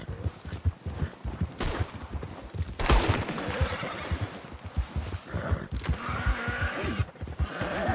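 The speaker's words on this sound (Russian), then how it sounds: "Тихо, там лошадь орёт, они пострелили" Horse neighing and whinnying in the Red Dead Redemption video game amid scattered gunfire and hoofbeats, with a busy, chaotic mix of repeated shots and animal cries.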